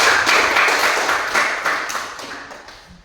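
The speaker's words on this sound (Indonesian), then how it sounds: "Ya, kita tepuk tangan yang semangat." A class of students claps together in enthusiastic applause, a dense patter of many hands that starts loud and fades steadily over about three seconds, with no talk over it.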